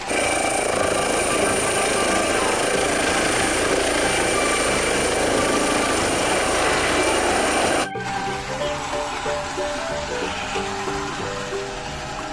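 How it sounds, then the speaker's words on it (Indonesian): A helicopter's steady, loud rotor thrum and engine whine fill the air, then the sound drops abruptly and continues somewhat quieter. "Ada helikopter."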